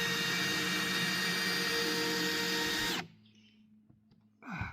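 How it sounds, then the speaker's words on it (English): A power drill bores down into a hole in wood during an outhouse build, whining loud, close and steady for about three seconds before stopping abruptly, leaving faint rustling and a brief clatter at the end. "Find the hole. And drill down."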